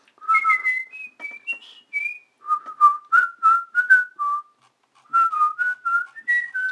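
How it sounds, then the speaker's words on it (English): A person whistles a short, bouncy tune alone, rising and falling notes in quick phrases with a brief pause midway, clear and close. "I can whistle better than you."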